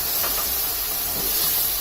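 Ground tomato paste hitting hot oil for a dhaba-style paneer masala gravy, a steady loud broadband hiss and sizzle that holds evenly throughout with no talking.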